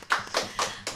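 A few people clapping at a Chinese New Year podcast taping, four separated claps in under a second, close and dry.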